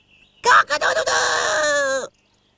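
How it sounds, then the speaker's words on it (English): A rooster crows at dawn with one loud, close, drawn-out cock-a-doodle-doo that breaks into a few choppy notes before a long sustained cry and an abrupt stop. "every morning at dawn, all cocks look up and cry"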